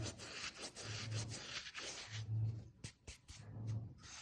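Carom seeds crushed between the palms while preparing kachori dough make a soft, close, rhythmic rubbing and rasping in repeated strokes, faint and without talking.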